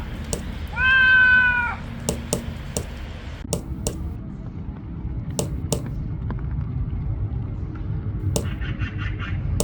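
A cat gives one clear, drawn-out meow close by early on, followed by scattered sharp taps and a low outdoor rumble.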